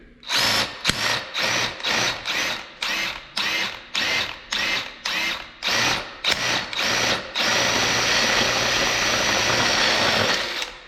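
A battery-powered impact wrench hammers at a ball joint nut on a Trailblazer SS in about a dozen loud, close rattling bursts, then one long continuous run. No one speaks.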